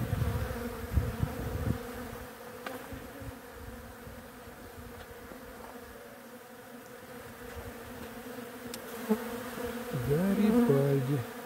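Bees buzzing around flowering Garibaldi hazelnut catkins outdoors, a dense steady drone of many insects with individual bees passing close and loud near the end.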